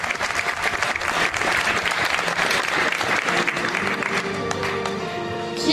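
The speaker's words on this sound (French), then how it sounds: "Vous pouvez l'applaudir très fort." A gala audience at a Miss Excellence Oise election applauds loudly, steady dense clapping from a large crowd sustained throughout.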